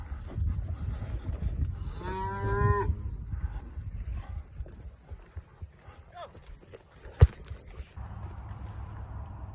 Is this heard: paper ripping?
no